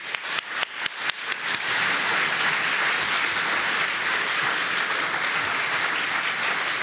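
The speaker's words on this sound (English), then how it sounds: "a round of applause for all these guys, please" A live audience at a songwriting panel with Frank Turner, Chris T-T and Beans On Toast opens with a few sharp individual claps that swell quickly into sustained, dense applause filling the room for several seconds.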